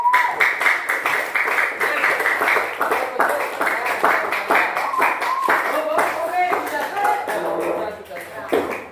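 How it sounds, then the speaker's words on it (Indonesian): A classroom of students claps for a group, a run of distinct, fairly close hand claps with a loose rhythm that thins out and fades toward the end. "Beri tepuk tangan untuk kelompok."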